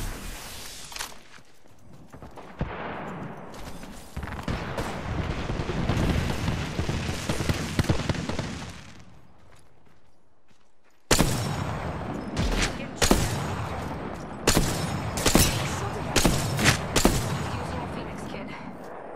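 Gunfire in a video game: dense bursts of rapid shots and automatic fire, loud and close. A quieter lull in the middle gives way to renewed sharp volleys, with player voices talking over parts of it.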